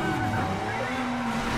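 A Nissan GT-R races at about 280 km/h in the Midnight Club 2 video game, its engine a steady sustained drone with a rising tone throughout, loud and continuous.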